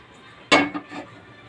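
A kadai, a deep Indian wok, set down onto a gas stove in a home kitchen: one clear metallic clank followed by a couple of softer knocks, close and alone.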